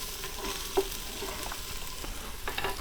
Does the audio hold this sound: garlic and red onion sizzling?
yes